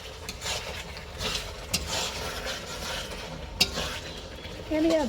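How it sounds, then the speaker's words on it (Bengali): Spice masala stir-fried in a little oil with a splash of water for a chicken dish with potato and cauliflower, giving a soft continuous sizzle with occasional spatula scrapes and clicks against the pan. "হালকা একটু জল দিয়ে দিল মশলাটাকে ভালো করে কষানোর জন্য"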